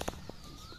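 Sirazi pigeons in a loft, with a few soft coos and brief wing flutters near the start, then quiet background murmur.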